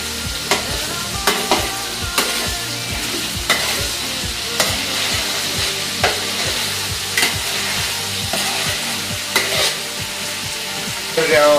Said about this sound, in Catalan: Ara le afegirem el pimentó y rehogaremos rápidamente.